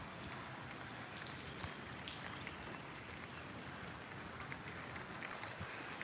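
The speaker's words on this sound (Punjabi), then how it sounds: "ਹੁਣ ਲੱਗਦਾ ਹੈ ਵੀ ਮੀਂਹ ਪੈ ਗਿਆ ਸਾਰੇ ਇਲਾਕਿਆਂ ਦੇ ਵਿੱਚ ਹੀ ਪੈ ਗਿਆ" Steady rain patters on a surface with scattered sharper drips, a constant wash of noise with no voices.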